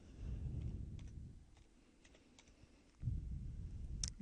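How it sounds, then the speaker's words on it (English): Quiet keystrokes on a computer keyboard, a few soft scattered clicks at low volume over a faint background hum, with no talking. "So we're going to type in here,"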